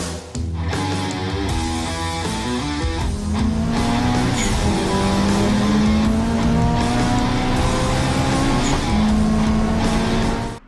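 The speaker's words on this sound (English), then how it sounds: "we'll also get to fire the car up, see what it sounds like with the intake and exhaust and the new intake plenum on there" A Honda Civic EK with a D16 engine, fresh intake, exhaust and intake plenum, runs loud and close, its engine note rising and holding steadily for about ten seconds with no talk.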